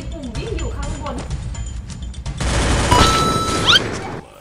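Gunfire in the Free Fire video game comes as a dense burst of rapid shots in the second half, loud and busy, after a stretch of fainter game noise, with people talking over it.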